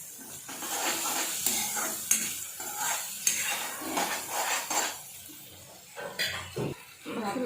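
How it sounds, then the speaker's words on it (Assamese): Chilli powder and cumin with a little hot water frying in a pan over lowered gas, with repeated clinks and scrapes of a spoon stirring against the metal over a faint sizzle. "মছলাখিনি অলপ মই ভাজি লৈছোঁ।"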